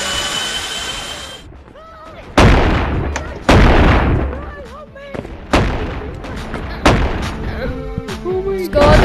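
An infinite-ammo shotgun fires in the game Animal Company: about five or six sharp, loud blasts come at irregular intervals, each with a short decaying tail, with talking and voices between the shots.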